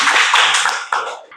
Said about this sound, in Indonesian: Kasih tepuk tangan untuk Nurma.